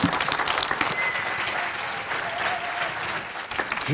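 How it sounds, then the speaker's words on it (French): An audience claps in sustained, dense applause at an event in a Red Cross training centre in Tours, loud and close from start to finish with no voices over it. "on applaudit une dernière fois"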